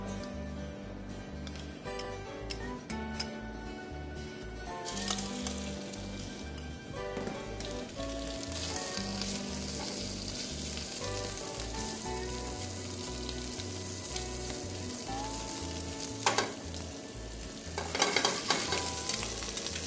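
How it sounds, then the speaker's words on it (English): Shrimp sautéing and being tossed in a pan with a pinch of salt and black pepper, a steady sizzle with stirring scrapes throughout, set against prominent background music. "What's important when sauteing shrimp to not overcrowd the pan."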